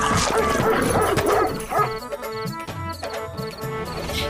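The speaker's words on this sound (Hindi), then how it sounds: "तब तक सेठ का कुत्ता बिरजू का पिछवाड़ा नोच लेता है।" A bulldog barks and yips excitedly while attacking, with whimpering and fast, agitated bursts of yelping over a mix of other noise, loud and close.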